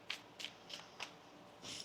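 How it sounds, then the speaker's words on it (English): A deck of tarot cards being shuffled, with five quick riffling bursts in an irregular rhythm, close but quiet and alone. "One more shuffle here."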